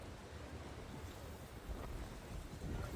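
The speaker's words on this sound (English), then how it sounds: "It's windy more than anything." Wind blows steadily outdoors in a garden on a cool day, a broad rushing roar buffeting the microphone and swelling in gusts, with no voices.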